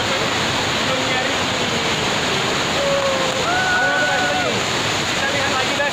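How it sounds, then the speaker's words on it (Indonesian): The Rantau Suli waterfall in Jangkat, Merangin, Jambi, roars as a loud, steady, dense rush of falling water throughout, with faint voices and thin high calls barely showing beneath it. "Nama air terjun Rantasule."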